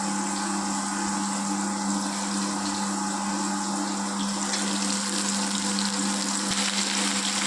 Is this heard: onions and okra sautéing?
yes